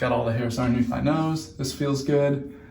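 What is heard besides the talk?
No everyday noises stand out.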